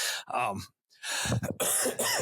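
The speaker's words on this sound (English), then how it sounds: "I apologize for this cough." A podcast host with a lingering cough coughs several times in quick bursts close to the microphone, the coughs separated by short gaps and joined by his voice.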